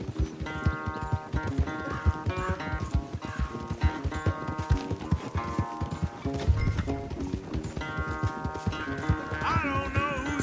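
Galloping horse hooves in the Western video game Red Dead Redemption 2 during a race: steady, rapid clip-clop beats in a continuous rhythm, close and loud, under game music, with a brief whinny-like sound near the end.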